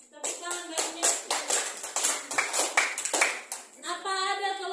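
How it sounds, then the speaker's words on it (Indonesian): Brisk classroom applause for a student, a burst of quick claps from a group of pupils, with a voice speaking as the clapping fades. "Tepuk tangan bagi Nesti."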